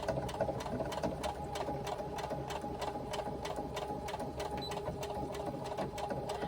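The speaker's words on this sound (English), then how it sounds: "Now I backstitch at the start and the end of those seams" A sewing machine stitches the seams of a swim bag with a steady, rapid, even mechanical chatter of needle strokes. It runs at close range without any break.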